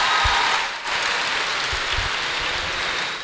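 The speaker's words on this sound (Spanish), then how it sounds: "Así que otro aplauso, Uriel, por favor" An audience at a book presentation claps in a dense, steady wash of applause that holds for a few seconds in an indoor hall.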